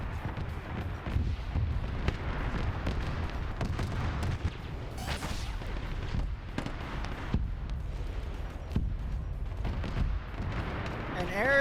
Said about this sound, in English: And air is bombing the shit out of everywhere where I can spawn stuff.